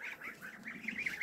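Goslings honking in a farmyard, a quick run of short, close, repeated calls rising slightly in pitch, with no talk.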